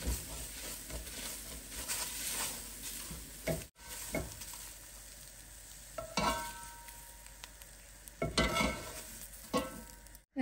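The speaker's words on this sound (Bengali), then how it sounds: "তেল ছাড়া এটাকে আমি ফ্রাই করব" Cooked rice is dry-fried in a pan without oil, a faint continuous hiss punctuated by scraping stirs and a few short bursts of clatter.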